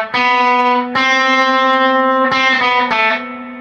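Electric guitar playing the opening riff of a song, loud sustained distorted notes picked one at a time and ringing out, with a few quicker picked notes near the end.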